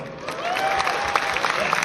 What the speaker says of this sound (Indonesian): Tepuk tangan dulu Bapak Ibu.